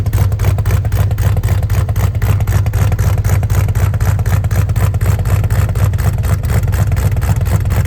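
An old Ford Dentside pickup truck engine runs steadily after starting, a loud, close, continuous low rumble with a rapid firing pulse and slight revving swells throughout.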